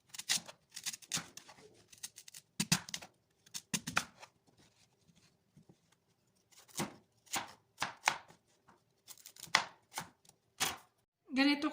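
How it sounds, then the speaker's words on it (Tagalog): A knife chops sweet potato (kamote) for ginataang bilo-bilo in quick, crisp bursts of strokes separated by short pauses, close and clear. "So, hiwain na natin ang ating kamuti."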